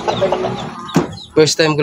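A backyard chicken gives a few short clucks, close by and moderately loud, with a person talking over and between them.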